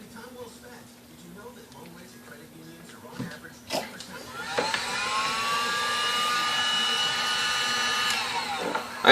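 Heat gun on its high setting loosening touchscreen adhesive on a Panasonic CF-29, starting up midway with a steady blowing whine and rising pitch, following earlier light handling noises.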